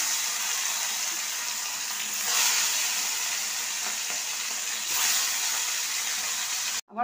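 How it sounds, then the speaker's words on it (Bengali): Parshe fish fries in hot mustard oil, giving a continuous close sizzle with two swells of louder spattering and a sharp clunk at the very end. "আমার পার্শে মাছগুলো ভাজা হয়ে গেছে।"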